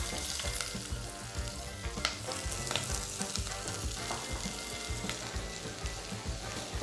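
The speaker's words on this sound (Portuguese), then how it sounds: "agora a gente vai colocar a cebola aqui para ela dar uma suada na panela" Chopped onion sweats in a hot pan with oil, a dense steady sizzle and crackle with occasional stirring scrapes, close and continuous with no talking.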